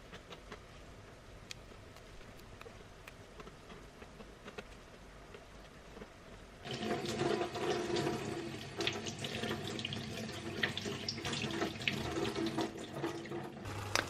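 Tap water runs into a sink while fresh coriander is rinsed, starting as a soft trickle and swelling into a steady, louder splashing stream about halfway through, with no talking.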